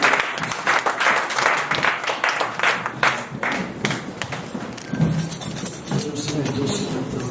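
A church congregation applauding together, sustained mixed clapping of many hands swelling and fading over several seconds, with a few faint voices mixed in.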